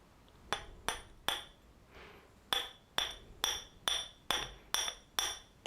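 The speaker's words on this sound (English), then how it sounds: "Here's the glass breaker tip. Let's see what we can do with it, shall we?" Tungsten glass breaker tip on the butt of a Sanrenmu 7090LUX folding knife tapping against glass: about ten sharp, bright clinks, close and crisp, falling in a steady rhythm with one short pause near the start.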